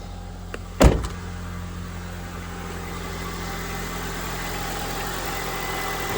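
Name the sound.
2004 Honda Civic EX engine idling after head gasket change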